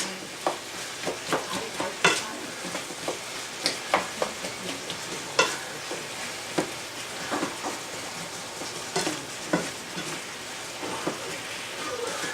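Apples with brown sugar cooking down in a pan, softening while being turned with a utensil: steady soft sizzle under repeated scraping, clacking stirs at an uneven rhythm, close and moderately quiet, with no talk.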